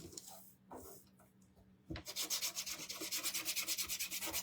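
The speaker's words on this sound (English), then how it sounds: "now we're going to sand the stands" Wooden stands from a shamrock craft kit are hand-sanded in a close, steady, rhythmic scraping of quick back-and-forth strokes, after a few soft handling sounds at the start.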